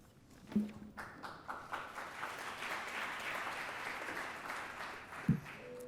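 Audience applause for panelists at a panel event on hate against the LGBTQ+ community, a sustained moderate clapping from a room full of people, with a couple of sharp knocks near the start and end.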